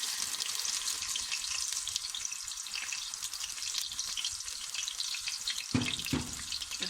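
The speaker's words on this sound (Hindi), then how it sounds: "यहाँ पे हमने तेल गर्म होने के लिए रख दिया। इसमें अदरक लहसुन का पेस्ट डालेंगे।" Two to three spoons of ginger garlic paste sizzle in hot oil for masoor dal, a soft, even hiss with a couple of brief metallic knocks near the end.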